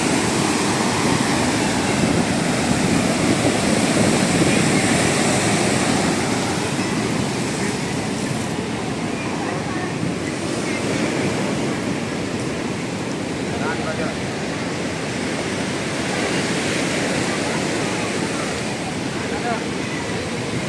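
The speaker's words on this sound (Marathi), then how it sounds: "ह्या आपला जो सुरक्षा भिंत आहे याच्यावरून लाटा आतमध्ये मारत आहेत" Sea waves at Ganpatipule crash over a seawall in a continuous roaring wash of surf, loud and close, with surges rising and falling under the steady rush for about twenty seconds.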